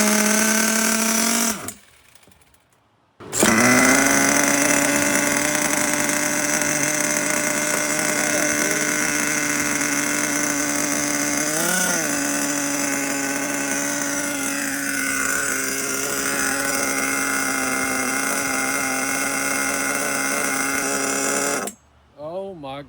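A nitro engine in an HPI Savage 21 RC truck runs loud and close with a buzzing whine, briefly cutting out near the start before catching again and holding high revs that rise and waver, with a voice talking over it.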